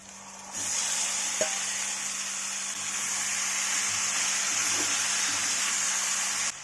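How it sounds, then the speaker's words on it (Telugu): Marinated chicken coated in turmeric, yogurt and ginger-garlic paste hits a pan of fried onions, settling into a steady, continuous sizzle that holds at an even level until it cuts off near the end. "ఇప్పుడు చికెన్ వేసేద్దాం."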